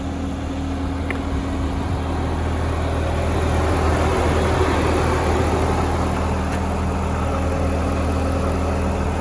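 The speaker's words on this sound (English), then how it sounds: "It has a supercharged engine," The supercharged engine of a 2011 Cadillac CTS-V four-door sedan idles steadily with a constant low hum and even rumble, unchanging throughout and with no voices.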